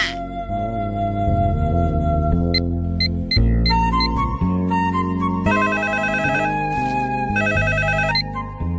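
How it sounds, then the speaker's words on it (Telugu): A phone ringtone plays loud and close as a steady melodic electronic tune, shifting into a brighter, faster chiming pattern partway through. Nothing else is heard. "అబ్బా, ఈ ఫోన్ చంపేస్తున్నా."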